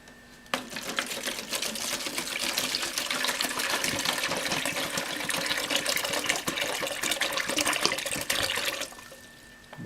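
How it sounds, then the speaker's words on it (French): Water pours steadily into a biogas container, a continuous splashing, gurgling fill that starts abruptly, holds loud and close for several seconds, then cuts off near the end. "On va ajouter un peu de l'eau à l'intérieur pour pas que ça bouge de trop en attendant"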